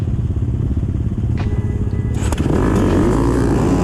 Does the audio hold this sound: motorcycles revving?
yes